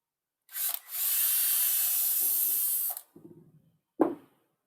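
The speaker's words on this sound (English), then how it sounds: "we'll drill a hole, pilot hole, in our outer" A power drill bores a pilot hole into an outer piece of wood in a workshop, a steady close whine of about two seconds between short bursts, followed by brief scraping and a sharp final knock.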